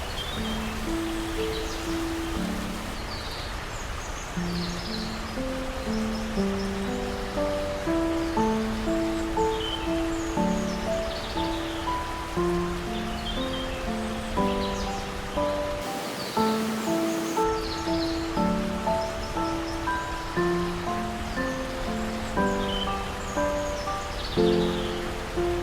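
Rain patters steadily in the Warrior Cats Ultimate Edition video game, a soft continuous hiss beneath a calm melodic music track that plays throughout.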